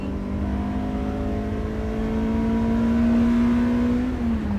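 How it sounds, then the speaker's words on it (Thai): A stock 2010 Toyota Corolla Altis with the 2ZZ-GE engine accelerates in second gear, its steady engine tone climbing in pitch over road and wind noise, heard from inside the car with no talking. "ดูอัตราเล่นเกียร์สอง อัตราเร่งเกียร์สองนะครับ"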